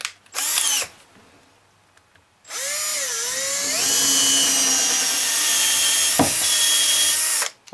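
A power drill with a large bit bores into wood while a wedding pie tree is built: a short burst, a pause, then a long, loud, steady whine that dips in pitch under load before stopping.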